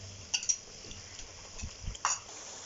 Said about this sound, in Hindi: दही के साथ मसाले की मज़ीद जो है 3 से 4 मिनट के लिए इसकी अच्छे से भुनाई करूँगी